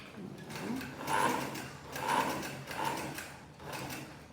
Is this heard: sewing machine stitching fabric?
yes